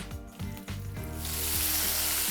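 Green beans tipped into a hot pan with aromatics for a South Indian salad: after a few brief tonal knocks, a bright, loud sizzle surges up and holds as steady close frying hiss.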